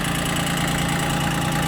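A Japanese Iseki TX1410 four-wheel-drive three-cylinder mini tractor, fitted with a rotary tiller, idles up close with a loud, steady, throbbing rumble and no voices.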